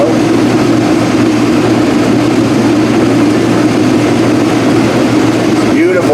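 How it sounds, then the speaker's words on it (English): A combine harvester runs during a warm-day corn harvest, its rotor turning at about 420, the slowest setting. A loud, steady low engine drone with a constant hum holds throughout at close range, unbroken for the whole stretch. "Got the rotor speed of about 420, which is as slow as it'll go on this combine"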